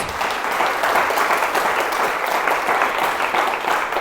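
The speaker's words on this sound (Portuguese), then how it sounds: "Dá uma salva de palmas então para Jesus" Church congregation applauding during a sermon, a thick, even wash of clapping filling the room for several seconds.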